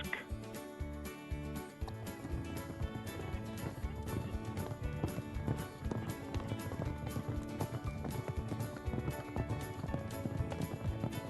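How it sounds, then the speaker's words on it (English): Racehorses galloping at the start of a horse race: rapid, continuous hoofbeats pound under a busy layered backdrop, steady and fairly loud throughout, with a brief neigh-like call near the beginning. "Horse number 2, Budgetarian. Number 1, Slippery Scope. And number 4, Genuine Risk."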